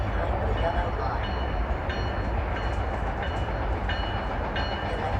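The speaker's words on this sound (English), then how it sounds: "Electric main line train number 126 to Union Station is now arriving" A Metra electric main line train bound for Union Station rolls into a platform, a loud steady rumble of wheels and motors filling the scene without breaks, no voices audible.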